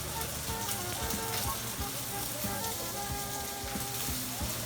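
Sausage sizzles and crackles steadily in a frying pan, a dense, continuous hiss with small pops scattered throughout, close and fairly quiet, with faint low background hum.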